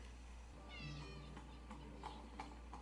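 A cat meows a few times in Game of Thrones episode "The Wolf and the Lion", moderately close, over a steady low hum from a television with faint background sounds.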